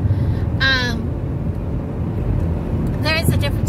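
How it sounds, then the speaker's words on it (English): Grackles calling from outside a moving car during a drive, with two harsh, rising squawks separated by a pause, heard over steady road and engine rumble. "look at the grackles"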